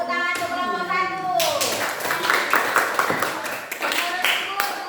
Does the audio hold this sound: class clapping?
yes